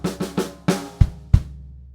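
Drum kit pattern from a graded piece: a flam and two sixteenths on the snare, then two eighth notes on the snare and two punchy eighth-note bass drum hits, played close and alone in about two seconds.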